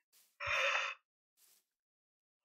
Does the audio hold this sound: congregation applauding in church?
no